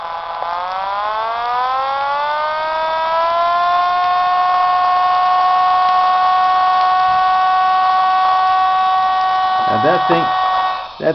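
A hematite bead pulse motor spins up, its tone climbing into a loud, steady, siren-like whine that holds, with a voice breaking in near the end.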